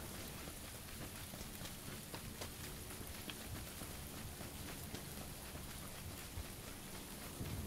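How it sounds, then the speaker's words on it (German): Steady rain falling in the video game PUBG, a soft continuous patter on surfaces with scattered droplet ticks, fairly quiet and even throughout with no voices. "Ich finde Regen immer schön im Spiel."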